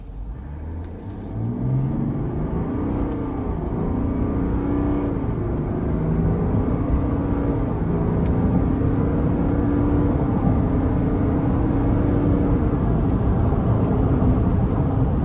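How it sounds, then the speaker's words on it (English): A 2025 GMC Yukon Denali Ultimate with the Duramax diesel pulls away from a stop under moderate throttle, a steady low engine drone rising in pitch through the gears from inside the cabin, with a soft whir and no talking. "So I should be able to bring it to a stop and give it a pull"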